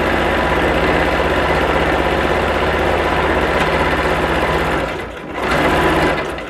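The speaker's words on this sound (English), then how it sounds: "does the quilting feet work on the sewing machine? Yes. No issues at all. They actually quilted quite easily." A sewing machine fitted with a Temu quilting foot hums loudly and close, stitching through a quilt in a fast, steady rhythm that dips briefly near the end before resuming.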